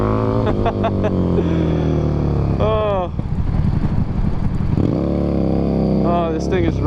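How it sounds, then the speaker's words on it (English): Harley-Davidson motorcycle with a Revolution engine idles and revs in bursts, its rumble rising and falling, with someone talking over it at the start and again toward the end. "It's a Revolution motor. Different sounds a lot kind of like a V-Rod."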